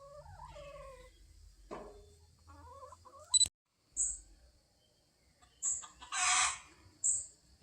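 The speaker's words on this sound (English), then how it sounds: "And there's the chickens over there." Backyard chickens in a rain-soaked Ohio garden cluck and call in sporadic bursts, some drawn-out warbling notes and sharper squawks at moderate distance, separated by quiet pauses.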